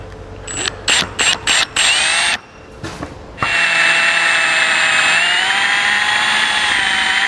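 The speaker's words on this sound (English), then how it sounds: "just take your time and get this hole drilled out" A power drill bores out a hole in a metal Blue Ox base plate mount on a 2018 Ford Edge, first in several short bursts, then after a pause in a long steady whine with rising pitch, close and loud.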